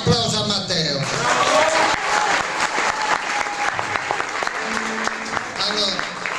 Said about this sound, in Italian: un applauso a Matteo